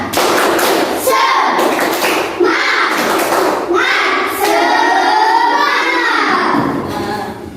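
Schoolchildren in a Grade 4 class performing the 'tepuk semangat' clapping chant, with loud rhythmic rounds of clapping, thumping and unison chanting up close that repeat in patterned groups over several seconds.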